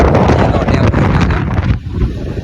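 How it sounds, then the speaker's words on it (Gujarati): Strong wind buffets the microphone outdoors, a loud, rough, gusting rumble that roars continuously and briefly dips near the end. "આપણે તો પવન બહુ છે"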